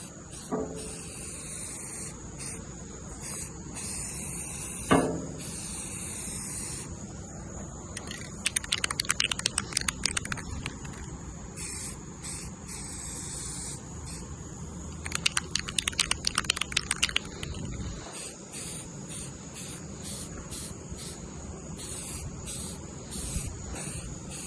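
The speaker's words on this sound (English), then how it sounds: "This one here does not spray nice." Aerosol spray paint can hissing in short, intermittent bursts over replacement harpsichord legs, with a couple of louder rattling, sputtering stretches and quiet pauses between, heard close up without speech.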